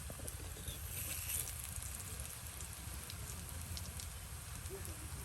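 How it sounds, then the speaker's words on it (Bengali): Dried rita fish frying crisp in oil, a steady dense sizzle and crackle that runs unbroken throughout at a moderate level. "এই দেখুন কিছুক্ষণের মধ্যে কিন্তু মচমচে হয়ে যাচ্ছে, তেলে উলট পালট করে দেওয়া হচ্ছে।"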